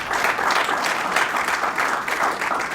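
An audience at a book launch event gives a steady round of applause, dense, even clapping from a room full of people throughout.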